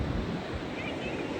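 Ocean waves on a beach in Wildwood, New Jersey wash in as a steady, close rushing surf with wind noise across the microphone.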